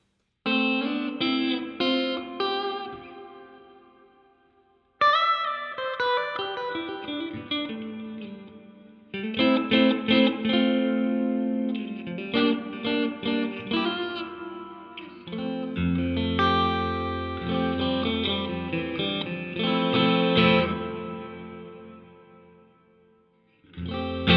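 Electric guitar chords and single notes ring out through a pedal with room reverb set to maximum, heavy and washy, each phrase blooming and lingering into a long tail.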